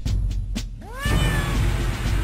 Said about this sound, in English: Aw, it's a cat.